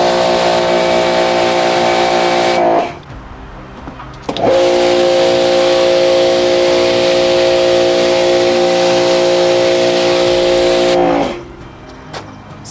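A pressure washer sprays under a car's undercarriage to clean off road salt, giving a loud, steady hissing roar with a motor hum that cuts out briefly twice, then restarts and runs on.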